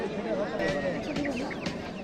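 Brahma chickens clucking at a busy pigeon market in Natore, Bangladesh, a few short close clucks and squawks over the low hum of a crowd.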